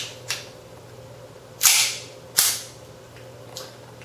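A KWA MKII 1911 gas airsoft pistol fires a few sharp, snappy shots at uneven intervals, two loud pops among fainter ones, close and alone over a low hum.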